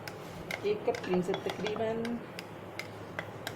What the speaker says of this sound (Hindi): अब हम एक मोल्ड में इसको ट्रांसफ़र कर देंगे।